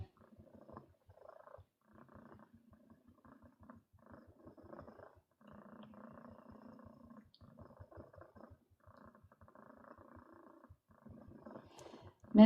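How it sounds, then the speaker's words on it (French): A domestic cat purrs loudly and continuously close up, a steady rumbling rhythm of pulsing breaths with no talk over it, ending in a brief louder bump. "Elle ronronne super fort et tout le temps."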